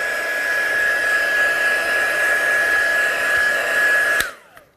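Craft heat or hair dryer blowing over mica pigment on a card, a steady loud whooshing hum with a thin whine, running close and continuous for about four seconds before switching off and winding down.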